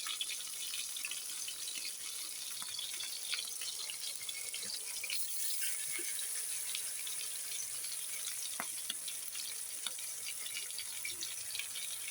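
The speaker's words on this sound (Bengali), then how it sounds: "মাছগুলো আমি একে একে দিয়ে দিব তার মধ্যে ভাজার জন্য।" Pangas fish fries in oil with a faint, even hiss and scattered small pops that continue steadily throughout, quiet and without talk.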